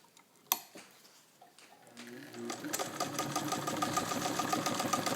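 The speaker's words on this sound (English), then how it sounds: "it's just sewing through 3 layers of garment leather, and it does not mind at all." Singer 66 sewing machine sewing through three layers of garment leather, beginning with a few slow clicks and then picking up into a steady, fast mechanical chatter that stays close and continuous.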